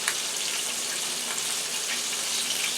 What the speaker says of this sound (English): you can hear the chicken frying